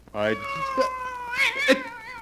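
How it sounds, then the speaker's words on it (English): A black cat in a radio drama lets out a long, drawn-out meow that bends up and down in pitch, then adds a couple of shorter wavering cries, loud and close against a quiet background. "It's only a black cat."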